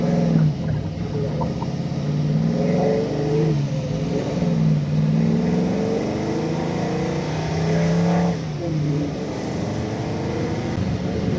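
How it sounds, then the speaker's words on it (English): A 1967 Ford Mustang fastback with Black Widow exhausts revs hard and accelerates, its engine note climbing and falling in loud, steady sweeps from close by with no talk over it. "it's got such a good tone when you get the high RPMs with these Black Widows"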